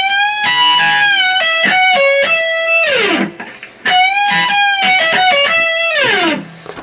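A distorted electric guitar plays a rock solo lick with quick picked and bent notes, loud and close, ending in a downward slide, then repeats the phrase with another slide at the end.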